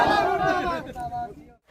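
Villagers shout protest slogans together at the Azamnagar circle office, a loud, close crowd of raised voices chanting in unison before trailing off near the end.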